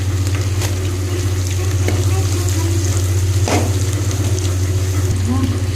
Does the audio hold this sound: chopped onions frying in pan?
yes